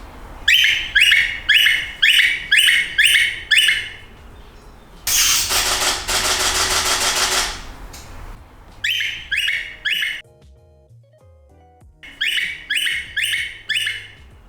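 Bursts of high, chattering backyard bird calls, awaited lorikeets, repeat in quick rhythmic clusters, broken by a loud rushing noise, then resume farther off and softer.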